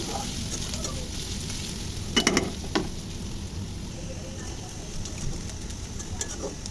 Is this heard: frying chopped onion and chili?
yes